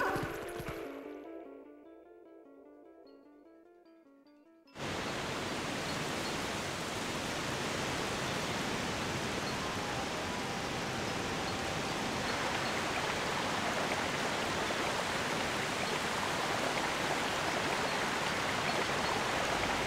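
In Zelda: Twilight Princess, soft game music fades out, then rushing water cuts in abruptly as a loud, constant, hissing roar that holds steady for the rest of the stretch.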